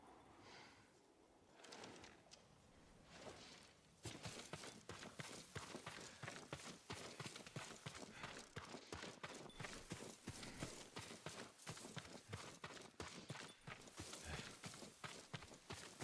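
Horse hooves clip-clopping in the Ghost of Tsushima video game, a quiet rustle at first, then a steady run of close, crisp hoofbeats continuing throughout with no talking.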